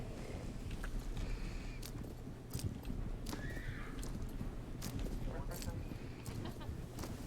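Racehorse hooves clip-clop steadily in a close rhythmic pattern during training, with a brief whinny and background rumble throughout.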